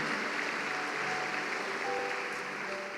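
A congregation applauds during a church service, a steady, even roar of many people clapping at a fairly distant, soft level.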